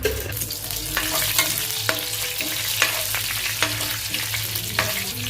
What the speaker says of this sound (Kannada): 2 ರಿಂದ 3 ಸ್ಪೂನ್ ಎಣ್ಣೆ ಹಾಕ್ಕೊಂಡಿನಿ ರೀ. ಸಾಸಿವೆ ಹಾಕ್ಕೊಳತ್ತೀನಿ, ಸ್ವಲ್ಪ ಜೀರಿಗೆ ಹಾಕ್ಕೊಳತ್ತೀನಿ